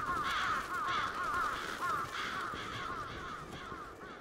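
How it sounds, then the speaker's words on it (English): Crows caw repeatedly in the video game Bloodstained: Ritual of the Night, harsh rhythmic calls overlapping at a steady, fairly loud level throughout with no talking. "Oh, those crows."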